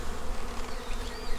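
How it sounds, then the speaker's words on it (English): A dense, steady buzz of honey bees inside a hive box drawing out comb, an even droning hum at moderate level with no voices. "We have bees in here pulling wax"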